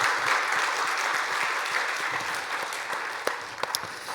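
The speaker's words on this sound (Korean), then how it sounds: "우리 힘차게 박수 한번 크게 하도록 하겠습니다." Church congregation applause during a Sunday worship service fills the room as a dense, sustained clatter of many hands, gradually tapering with a few final claps at the end.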